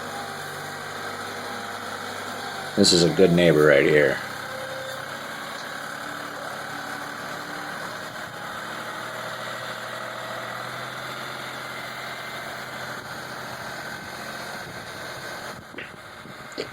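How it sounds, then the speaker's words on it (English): A 4-wheel drive tractor idles with a steady, low engine rumble throughout at a worksite where a septic system is going in. A brief louder clatter comes near the start, and someone speaks briefly over the engine. "And he's on a 4-wheel drive tractor."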